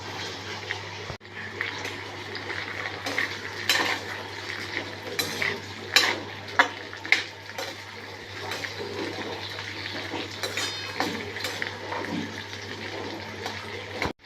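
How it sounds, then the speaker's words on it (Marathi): Chopped green beans fry in a little oil for a Maharashtrian farasbi bhaji, with a steady sizzle and repeated clatters of a spatula stirring against the pan. "आपल्याला ह्या भाज्या आपण ज्या कापून ठेवल्या आहेत थोड्याशा तेलावर फ्राय करून घ्यायच्या"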